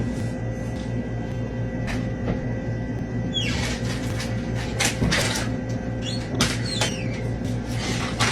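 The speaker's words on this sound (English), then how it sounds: "a cabinet door behind her slowly opens on its own" A cabinet door creaks slowly open over a steady low hum, with a few soft knocks and squeaks along the way.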